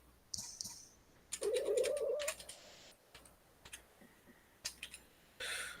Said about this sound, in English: is a cat attacking you? Yes, she's rubbing on my face.